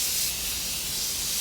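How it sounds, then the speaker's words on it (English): Morphe continuous setting spray mists onto a face in one steady, close, airy hiss lasting the whole moment, with no talking over it. "now I'm going in with my Morphe continuous setting spray"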